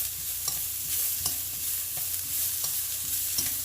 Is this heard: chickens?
no